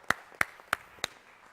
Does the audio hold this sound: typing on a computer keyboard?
no